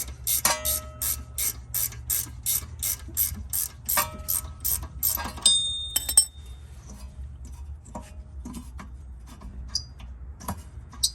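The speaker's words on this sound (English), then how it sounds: "Use my gear wrench where I can." A gear wrench ratchets rapidly on the rear wheel bearing bolts of a 2014 Kia Soul, about a dozen quick clicking bursts close up, then a brief metallic ring and scattered faint clicks.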